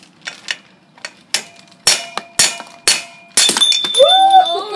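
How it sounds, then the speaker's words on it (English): A sledgehammer striking a long socket to drive out one-piece BMX cranks, a series of sharp metallic clanks spaced irregularly, followed by a sustained ringing metallic tone and brief vocal sounds. "So I'm going to use just a long socket and a sledgehammer."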